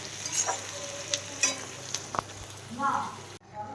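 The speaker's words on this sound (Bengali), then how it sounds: "এখানে পেঁয়াজটা ভাজতে দিয়ে দিয়েছি তেলের মধ্যে" Onion frying in oil in a kadai, a soft steady sizzle with a few stirring clinks and scrapes, close, ending abruptly.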